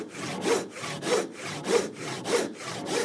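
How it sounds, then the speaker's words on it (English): A handsaw cuts through wood in steady, rhythmic back-and-forth strokes, about five rasping passes, close and clear with no talking. "I start sawing to the line"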